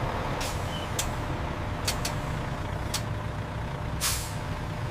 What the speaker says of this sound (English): Trucks move out of the factory gate safely.